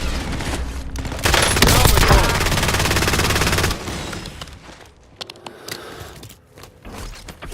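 Sustained machine gun fire in a military shooter video game rattles loudly in a long dense burst, followed by scattered clicks and mechanical weapon handling sounds.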